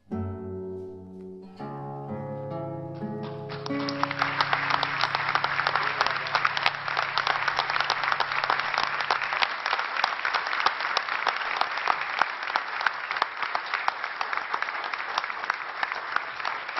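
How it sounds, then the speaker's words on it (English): Large audience at a surgery conference session breaks into sustained applause, dense clapping that swells in after a few closing musical notes and carries on steadily to the end. "Thank you for that rousing applause."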